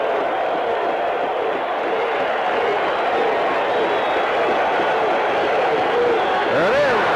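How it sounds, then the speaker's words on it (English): A baseball stadium crowd cheers and roars in a steady wash of noise after a pitcher's strong pitch, with excited voices and whistles rising near the end under a play-by-play commentator. "Roach has the crowd excited."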